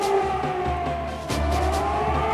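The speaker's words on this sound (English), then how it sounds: "Now the sirens are sounding for the first time." Air raid sirens wail over Baghdad at night during the opening of the 1991 Gulf War bombing, a steady sustained tone heard from a distance with broadband city noise beneath it, and no voices.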